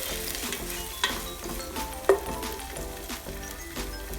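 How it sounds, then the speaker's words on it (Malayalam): Cooked moong dal being stirred into hot ghee in a pan for pancharathna payasam, with a steady sizzle under scraping spoon strokes and a couple of sharper clinks against the pan. "എന്നിട്ട് ഇതിനെ ഒന്ന് നമുക്ക് മിക്സ് ചെയ്യാം."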